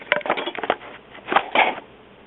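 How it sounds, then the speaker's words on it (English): Sheet of glass set down over a printed transparency negative for cloth cyanotype printing, giving a short cluster of close clinks and scraping glassy contacts over about two seconds. "So glass goes over that."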